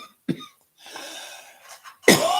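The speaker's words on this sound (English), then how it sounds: "I start coughing." A person coughs twice, close to the mic: a short sharp burst, then a louder, raspier one after about two seconds, with quiet breathy noise between them.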